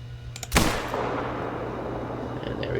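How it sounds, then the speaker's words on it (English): A single loud .270 rifle shot rings out in a hunting video game, a sharp crack followed by a long rolling echo that fades slowly over a steady low background hum. "pull out our rifle,"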